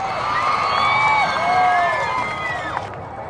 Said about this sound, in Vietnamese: Một tràng pháo tay cho hai bạn này được không ạ?